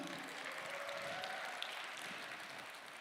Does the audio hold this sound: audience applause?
yes